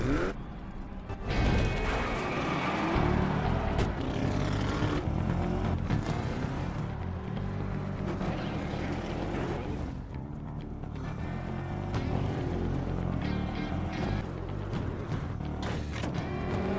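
Cars racing in a Herbie movie race, engines droning and revving continuously at a steady loud level, with creaks and mechanical noises mixed in and a film score underneath.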